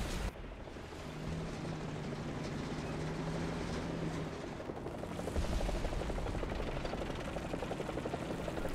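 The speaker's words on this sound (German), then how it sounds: "Mach den Heli weg, der nimmt mich sonst raus" A helicopter in War Thunder whirs with a steady rotor drone amid tank-battle noise, holding a fairly even level before a harsher burst of sound takes over midway.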